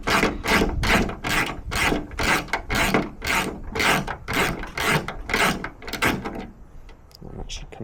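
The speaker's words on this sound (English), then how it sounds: "So I'll undo this bolt real quick." Rapid ratcheting as a bolt is undone on a Ford Fiesta MK6 bonnet, a close, loud series of rasping clicks in steady rhythmic strokes that slow and quieten near the end.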